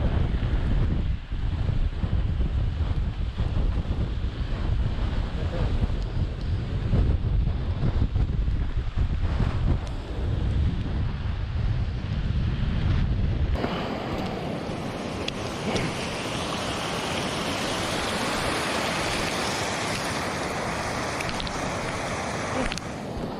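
Strong wind gusting through an old-growth forest on a wet, snowy day, a loud, steady roar with heavy buffeting against the microphone that shifts to a brighter, more even rush partway through.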